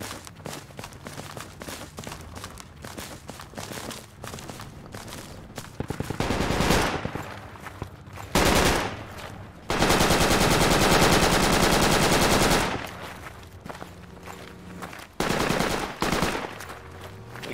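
Project Reality firefight against a Humvee crew: sparse scattered shots early on, then several long sustained machine-gun bursts, one lasting about three seconds, loud and close with short pauses between.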